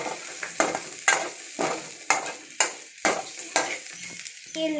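Spaghetti pasta with oregano being mixed in a pan, a soft sizzle under a regular series of about eight sharp scraping strokes of a utensil, close by and without talk.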